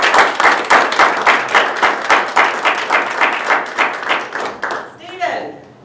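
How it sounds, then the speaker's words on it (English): An audience at a contest event gives a loud, close round of applause, with steady rhythmic clapping in unison that breaks up into scattered claps and a brief shout near the end. "Let's have a big round of applause for"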